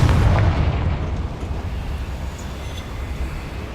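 Confringo explosion spell cast in the Hogwarts Legacy video game, a loud booming blast at the start that decays into a long rumbling tail, with no talking.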